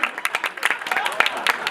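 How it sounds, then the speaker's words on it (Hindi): Audience applause at a sangeet evening, a brief run of uneven claps rising and falling in quick bursts, moderately loud with chatter mixed in. "जोरदार तालियां होनी चाहिए।"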